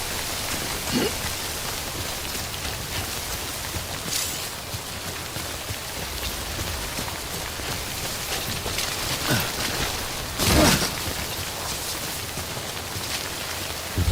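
Steady rain falls in the video game Death Stranding, a dense even hiss of drops on surfaces throughout, with a few brief louder splashes or gusts breaking through.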